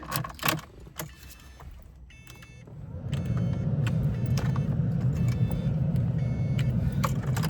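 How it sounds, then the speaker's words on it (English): A Lotus Evora GT starts on a hot day in Houston after a few key and interior clicks, its engine swelling into a steady, close idle rumble that holds to the end. "Actually, maybe I'll turn on the engine, guys"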